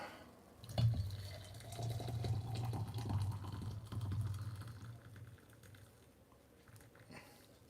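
Hot water pours steadily from a kettle into a vessel, a low burbling stream that starts abruptly, runs for several seconds, then tapers off.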